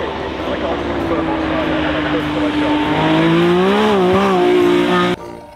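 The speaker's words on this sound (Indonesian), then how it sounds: "ada mobil Lamborghini." A Lamborghini toy car sound effect plays as a loud, continuous racing engine whine with rising and falling revs, tire-squeal tones near the end, then cuts off abruptly, with a voice talking over it.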